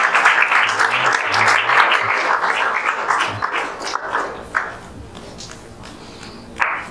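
An audience claps continuously at an event, loud at first and thinning toward the end, with scattered single claps and some background voices.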